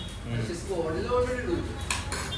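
Plates and a spoon clinking while dosa is served, a busy mix of dish and cutlery clatter in a noisy room with people talking throughout.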